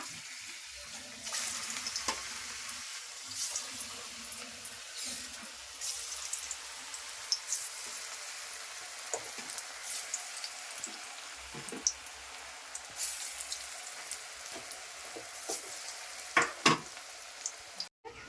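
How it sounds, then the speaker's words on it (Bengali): Jackfruit fritters frying in hot oil, a steady close hiss and crackle of sizzling that continues throughout, with a few faint clinks and drips and no voices. "এখন তেল গরম হয়ে গেছে, আমি এইভাবে বড়াগুলি করছি। তো আমি এটা তেলে দিচ্ছি"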